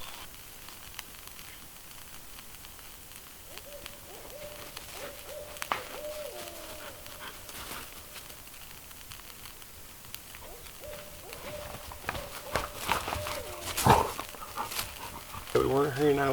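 Outdoors on a spring camping trip with dogs, a person lets out a voiced imitation of an owl hoot, a steady held tone amid background talk and rustling, ending in a louder burst of calls.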